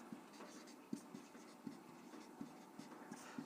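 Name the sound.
writing on a board during a maths lesson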